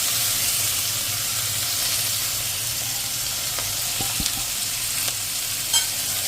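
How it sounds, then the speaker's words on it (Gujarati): Chopped radish leaves fry in crackling spiced masala in a pan over a medium flame, a dense continuous sizzle and hiss with a low hum beneath and occasional faint stirring knocks. "અને હવે એમાં આપણે જે આ ભાજી સમારી છે એ આપણે આમાં નાખી દેશું"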